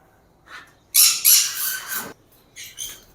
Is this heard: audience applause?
no